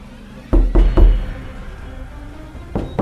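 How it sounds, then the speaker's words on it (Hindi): Someone knocks three times in quick succession on an old wooden door at the front of a small house. The knocks are loud and hollow, and one more knock follows after a pause. "विक्रम जोर से दरवाजा खटखटाता है"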